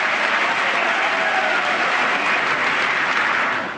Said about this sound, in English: I thought I'd get some applause on that